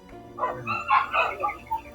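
A puppy barks in a series of high, yappy yips and whimpering barks, about six bursts in quick succession, fairly close, with a faint steady hum underneath.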